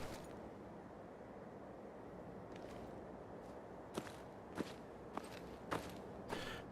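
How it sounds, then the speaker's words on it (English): Footsteps in Fallout 4, a few distinct steps landing in an irregular rhythm over a steady bed of ambient game noise and wind, fairly faint and close. "Plus I like the sound of the footsteps."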